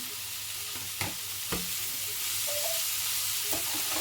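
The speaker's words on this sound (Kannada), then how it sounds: "ಹಾಗೆ ನಾವು ಪನ್ನೀರ್ ಕಟ್ ಮಾಡ್ಕೊಂಡಿದ್ವಲ್ಲ ಅದನ್ನು ಕೂಡ ಸೇರಿಸ್ಕೊಳ್ಳೋಣ" Cut paneer cubes tumble into a hot pan and get stirred, giving a steady close sizzle of frying with a few sharp spatula scrapes and knocks against the pan.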